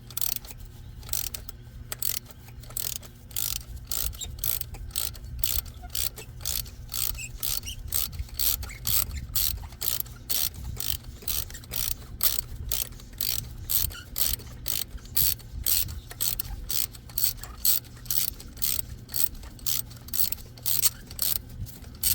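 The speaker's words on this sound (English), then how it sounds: "go ahead and begin unscrewing the spark plug" A ratchet with a 5/8 socket unscrewing a spark plug on a Honda Accord 2.4L engine, close rhythmic metallic clicking in steady strokes over a low hum, repeating throughout with no talk.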